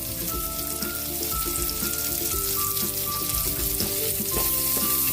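Garlic and onion sauté in hot oil in a pan, a dense, steady sizzle with crackling pops close to the microphone, rising slightly in intensity throughout, with no speech.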